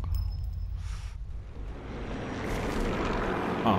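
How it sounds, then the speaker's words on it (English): Propeller plane engine droning overhead in the video game Sniper Elite 4, a low rumbling hum that swells louder toward the end with no talk. "Oh, and now the plane flies overhead."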